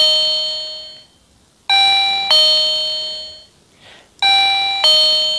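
A motion-sensor electronic guest-saluting doorbell sounds loud, bright electronic ding-dong chimes, two two-tone rings separated by a short gap, each tone ringing out and decaying clearly.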